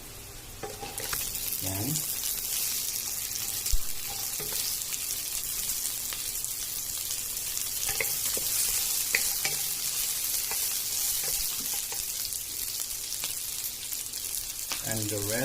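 Potatoes and beans fry and sizzle steadily in a pan while a utensil stirs and scrapes them at intervals, with a brief spoken word partway through.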